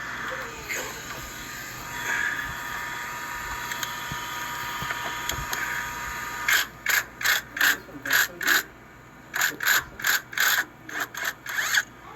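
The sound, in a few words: impact wrench removing 14mm tensioner nut, 2006 Nissan Sentra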